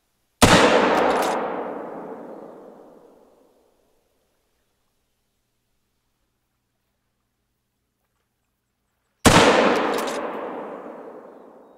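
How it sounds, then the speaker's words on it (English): Two loud rifle shots from the video game theHunter: Call of the Wild, each a sharp crack followed by a long rolling echo that fades over about three seconds, spaced roughly nine seconds apart with silence between. "Two shots."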